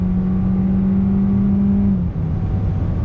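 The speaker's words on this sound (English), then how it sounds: "Back on throttle, the transmission drops down and we are off and running." A 2021 Kia K5 sedan accelerates under throttle as its automatic transmission downshifts, a steady loud engine drone with a pitch drop near the two-second mark, then continued strong engine noise heard from inside the cabin.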